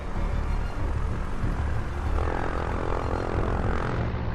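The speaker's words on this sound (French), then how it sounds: "le pilote doit mener son avion dans l'œil du cyclone" An airplane flies into the eye wall of a cyclone, with a loud, continuous roar of engine and rushing wind that holds steady for the whole stretch.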